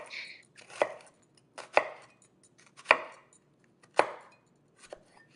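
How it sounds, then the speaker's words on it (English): A knife slices through food onto a cutting board while cooking shepherd's pie, giving five crisp, close knocks about a second apart with quiet gaps between them and no talking. "Slice it, but not all the way to the end, so it stays intact."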